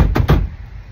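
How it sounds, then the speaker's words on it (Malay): Two quick, dull knocks land on the steering wheel of a Perodua car as it is loosened for removal, close and loud, with a brief resonance after them. "Cara nak cabut steering ni, kita kena ketuk sikit."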